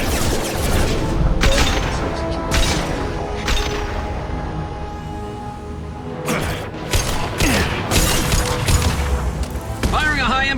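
Rapid gunfire from a Mass Effect 2 battle, with repeated heavy booming shots and mechanical clatter in bursts, loud and close, and game character voices heard between them.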